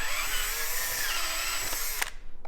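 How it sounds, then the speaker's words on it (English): A power drill whines steadily at close range for about two seconds, then cuts off abruptly, drilling holes from the bottom up during a street-legal kit install on a Kawasaki KLX110 motorcycle. "you can drill the holes from the bottom up"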